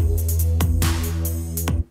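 A synthesizer pattern with a filtered, sweeping tone over steady bass notes, repeating in short bursts before cutting off.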